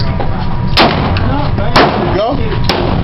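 Three sharp .45 caliber handgun shots crack at roughly one-second intervals on an indoor gun range, loud and close, over a steady background din with faint voices.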